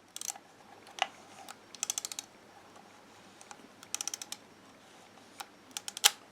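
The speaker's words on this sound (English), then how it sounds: "you press in this rewind knob here, and then you wind back with a lever here, and it winds back the film into the cassette." Braun Paxette Super III film camera being rewound, small dry ratcheting clicks from the lever arriving in short quick clusters, close and quiet against near silence.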